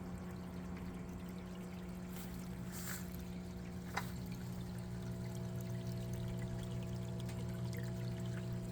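Aquaponics water pump running on a timer with water pouring into a large flood-and-drain growbed: a steady mechanical hum with a continuous splashing pour and one brief knock partway through.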